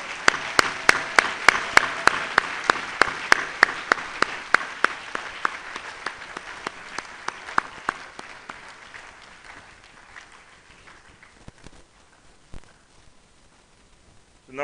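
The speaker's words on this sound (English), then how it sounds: "So now let's give a big applause for all the members." Applause at a surgeons' induction ceremony: an audience claps steadily and evenly, strongest at the start, then thins and fades out over about fourteen seconds, with no talk.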